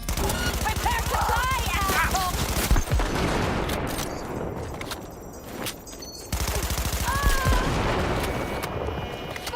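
Gunfire from the Cyberpunk 2077 video game: rapid, sustained automatic bursts fill most of the stretch, loud and close, with a brief lull in the middle before the firing resumes, mixed with in-game effects and occasional speech.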